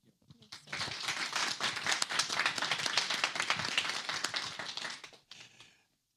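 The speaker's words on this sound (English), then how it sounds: "all this applause, you may take it back at the end" Audience applause for a speaker at an eco network event starts quickly, builds to a dense, lively patter of many hands, holds for several seconds, then tapers off in a short final burst.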